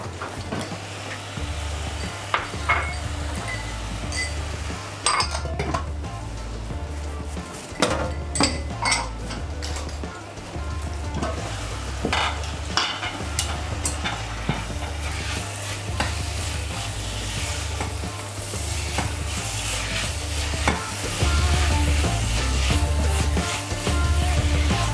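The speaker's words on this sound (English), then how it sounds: "Now I'm going to add the rest of the spices." A teaspoon scrapes and clinks against a pot as spices go into meat pie filling, with steady stirring and a low sizzle running throughout, close and fairly loud.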